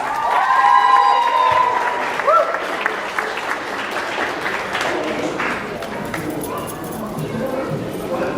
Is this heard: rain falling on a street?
no